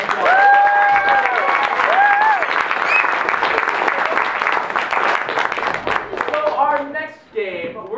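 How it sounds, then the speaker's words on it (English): Audience applause at an improv comedy show, a loud, dense wash of clapping filling the room from start to finish, with whoops and cheers riding over it and tapering near the end. "Give them another round of applause."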